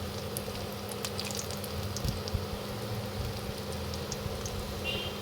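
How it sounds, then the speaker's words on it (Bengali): Cauliflower pakoras fry in oil over medium-low heat, a quiet, steady bubbling sizzle with scattered small pops, continuous and fairly faint with no voices. "আমরা একইভাবে এগুলোকে উল্টিয়ে আরেক পাশ গোল্ডেন ব্রাউন করে ভেজে নিব"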